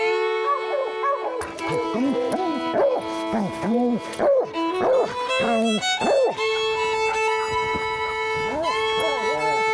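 Hunting dogs on the trail of a mountain lion in the Rocky Mountains bark, yip and whimper in a busy overlapping chorus, with long howl-like tones near the end; a voice comes in briefly.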